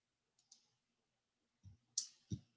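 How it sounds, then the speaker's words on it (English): A computer mouse clicks on a link: a few sharp, faint clicks in a quiet room, spaced irregularly, with two slightly louder presses near the end. "Let's go ahead and click on the link."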